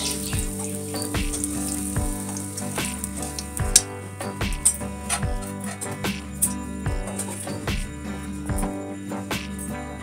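Bay leaf, clove, cumin and black pepper spluttering in hot leftover oil give a continuous crackling sizzle with sharp pops, close and fairly loud, alongside rhythmic clinking and scraping in a home kitchen.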